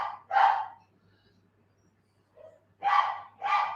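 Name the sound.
old dog howling or singing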